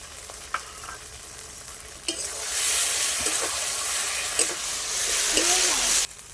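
Chopped tomato and spice masala for egg biryani sizzles and fries in a pan while a spoon stirs it, with scraping strokes and a steady hiss that grows louder after a splash of water; a voice speaks briefly at the start.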